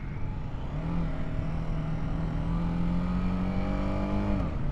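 A BMW G 310 R single-cylinder motorcycle engine revs high and steady while riding through corners, a sustained droning buzz with a slight pitch rise, loud and close, with no talking.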